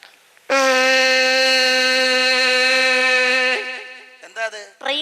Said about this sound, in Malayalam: എന്താ അത്? ട്രെയിൻ കൂവിയതാ.